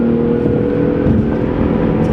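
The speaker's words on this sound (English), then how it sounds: "Nice intake growl on that V6" Infiniti M35x V6 with 18-inch wheels accelerating, a steady low intake growl and engine drone heard from inside the car, loud and continuous.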